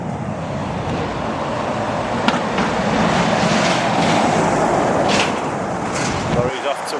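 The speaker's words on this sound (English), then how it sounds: "Lorry's off towards the port" Lorry on a street in old Sunderland, a broad roaring rumble of engine and tyre noise that swells as it passes near and then fades, with street ambience around it.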